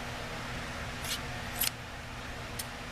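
Scissors snip through yarn while a crocheted piece is fastened off, giving three quick, faint, crisp cuts over a quiet background hum.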